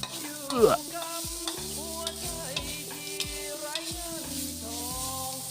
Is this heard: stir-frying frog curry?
yes